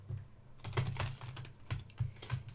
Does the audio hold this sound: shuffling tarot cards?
yes